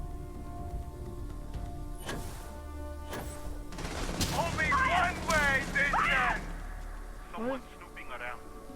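Gunfire in the video game Starfield, aimed at the floor: a few sharp, separate shots over a low ambient rumble, with voices talking throughout.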